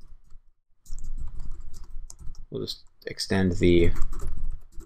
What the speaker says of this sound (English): we need to type in hello bundle and the name of our class, and then we need to type in controller